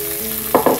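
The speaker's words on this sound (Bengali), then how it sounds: "এটাকে ভেজে নিতে হবে" Dried loitta fish and onion go into a hot pan, and a steady hiss gives way to two loud, close bursts of sizzling frying near the end.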